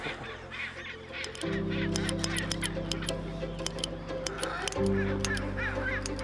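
A penguin colony calls: loud, near, honking brays sound continuously, layered from many birds, with one strong sustained call swelling midway and another starting near the end.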